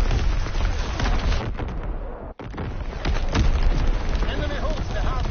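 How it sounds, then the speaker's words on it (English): Enemy artillery shells and explosions boom across a WWII battlefield game, a dense, loud barrage of blasts and gunfire rolling continuously with one brief dropout midway, under intermittent shouted voices. "Incoming enemy artillery."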